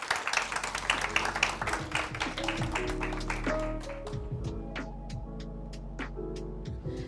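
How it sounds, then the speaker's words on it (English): Audience applause at a women's brands awards event as a State Department of Gender official leaves the stage, dense clapping with musical tones underneath, thinning to scattered claps toward the end. "Round of applause for her as she makes her way out."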